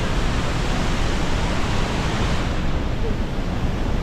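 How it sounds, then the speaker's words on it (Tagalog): Roar of Niagara Falls: a dense, steady broadband rush of falling water, loud and unbroken throughout, with no clear speech over it. "Yan mismo, ang Niagara Falls."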